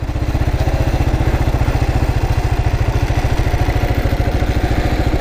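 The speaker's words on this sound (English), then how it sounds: "I'm just feathering the clutch." KLR motorcycle engine running slowly while the rider feathers the clutch, giving a steady, loud, close thumping putter at an even rapid beat throughout, with no speech.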